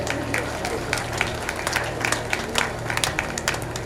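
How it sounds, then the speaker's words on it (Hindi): Scattered clapping from a modest crowd at a Shreemad Bhagvad Katha religious gathering in Indore, uneven and moderately loud, with background hum underneath. "जोरदार तालियों से भैया का स्वागत करें।"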